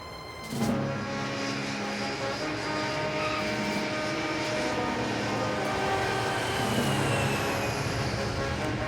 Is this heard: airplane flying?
yes